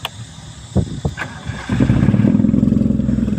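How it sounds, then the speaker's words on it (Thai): Mitsubishi Champ 3D car with a 4G15 engine running on petrol cranks with a few clunks, then catches and settles into a steady, loud, close idle. "เดี๋ยวติดเครื่องให้ดูครับ คันนี้ใช้น้ำมันล้วนนะครับ"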